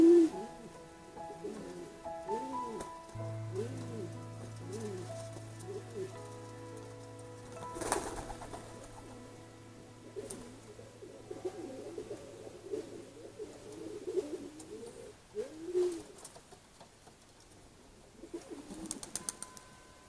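Pigeons coo in repeated throaty, rolling calls, with scuffling and wing flaps as the birds fight, fairly close and sustained over a low hum, without talk.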